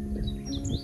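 Birds chirp in short, thin high calls on an open mountain road in Kyushu, Japan, heard faintly over a steady low background rumble.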